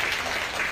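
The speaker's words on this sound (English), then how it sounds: "one more round of applause for Hannah and Bunny" A crowd applauds candidates at a student society election event, steady clapping that holds moderately loud and even for the whole stretch with no talk.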